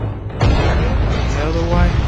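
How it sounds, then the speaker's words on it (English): A grenade blows up in the SpyHunter: Nowhere To Run video game, a sudden loud boom about half a second in that rolls into a sustained rumble with game noise, and a voice speaks over it. "Grenade."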